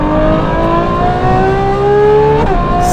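A Novitec Ferrari 12Cilindri V12 engine accelerates hard, its pitch rising smoothly for a few seconds before a brief dip and a shift, loud and near.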